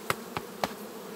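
Honey bees in a September hive drone steadily on hive frames, a low buzzing hum interrupted by three sharp taps or knocks of the frames, with no talking.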